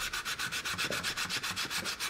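Hand sanding wood with P120 sandpaper on a carved Celtic clock makes a rhythmic rasping scrape, about eight even back-and-forth strokes each second, close and steady with no talking.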